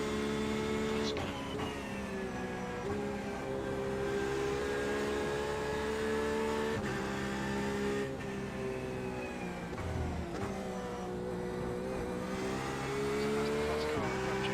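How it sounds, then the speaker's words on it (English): A race car in the iRacing video game during a 24-hour endurance race at Road Atlanta drones steadily with a sustained engine note that rises and falls through gear changes, loud and continuous throughout. "That's the fast car approaching."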